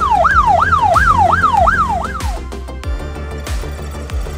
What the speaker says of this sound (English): Ambulance van.